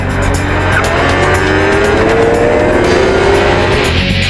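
A car accelerating hard from a standing start on a damp road, with a loud, sustained engine roar rising in pitch, heard close and alone for several seconds.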